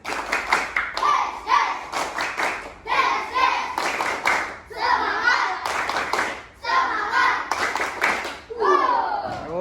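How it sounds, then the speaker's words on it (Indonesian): Schoolchildren in a fifth-grade classroom perform a rhythmic spirit clap, bursts of patterned group clapping alternating with their chanted voices, close and lively. "Yuk, tepuk semangat."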